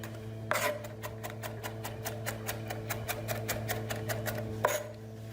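A knife chops rapidly and evenly on a cutting board, mincing cauliflower with a quick run of crisp taps over a low steady hum, with two heavier strikes at the start and end.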